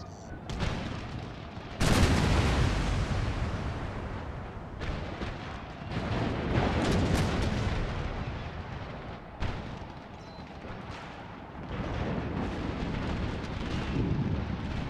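Artillery and musket fire in an Empire: Total War battle, rolling booms and crackling volleys that swell and fade in waves over a continuous loud din.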